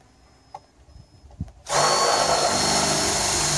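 A power drill bores into a wooden deck during deck removal: a couple of light knocks and shuffles, then the drill starts abruptly and runs loud and steady for the final two seconds, close up.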